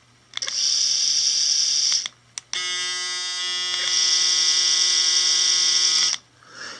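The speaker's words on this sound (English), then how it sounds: "This Braun shaver is excellent. That's the noise there." A Braun cordless electric shaver buzzes in two bursts, a short one then a longer steady run, with a high whirring hum close to the microphone.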